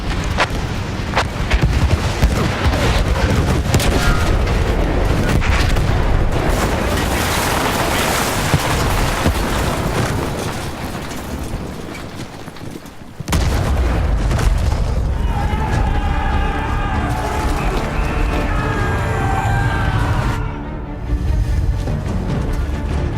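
Heavy World War I artillery fire in a battle scene from a film: dense, continuous booming and rumbling blasts that stay loud throughout, with a brief break midway and voices mixed into the din.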